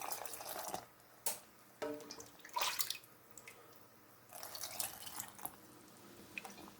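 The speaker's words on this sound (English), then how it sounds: "I'm going to fill them back up with brine all the way up to about ½ an inch" Brine pours into recycled jars of pickled apples, a close splashing and trickling stream that swells and fades in several uneven pours with brief drips between.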